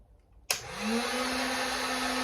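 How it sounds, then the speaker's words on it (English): A Harbor Freight heat gun clicks on after a quiet moment and settles into a steady, loud blowing whir with a faint motor hum underneath. "let my heat gun get heated up."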